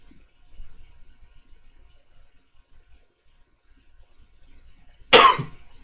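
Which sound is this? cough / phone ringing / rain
cough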